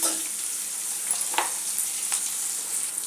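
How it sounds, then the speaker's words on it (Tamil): Sliced onions sautéing in hot oil, a steady close sizzle with a couple of brief stirring scrapes, no talk. "நல்லா வதக்கிடலாம் வெங்காயத்தை."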